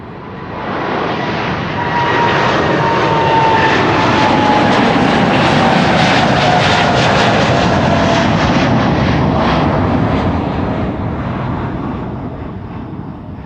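A Boeing 787-10 Dreamliner jet passes at Amsterdam Schiphol Airport with a loud, sustained roar that swells in over two seconds, holds strong, then fades gradually as it moves off.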